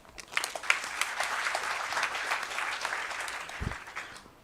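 A large audience at a college welcome ceremony bursts into sustained, dense applause that swells quickly and holds steady, loud and close.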